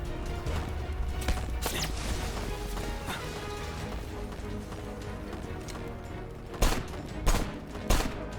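Gunfire in Left Alive rings out as a few sharp, loud cracks near the end, following a busy stretch of scattered impacts and rumbling background game noise, with no talk.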